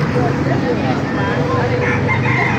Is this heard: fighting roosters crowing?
yes